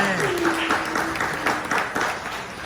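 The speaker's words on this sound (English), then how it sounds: "So let's give him another hand clap." An audience claps together in applause at a live talk, a steady, dense patter of many hands filling the room for a few seconds, with a faint voice briefly underneath.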